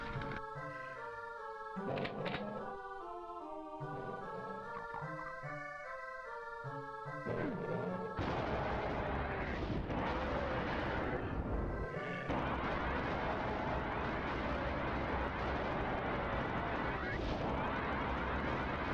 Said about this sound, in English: Switch over to my plasma gun.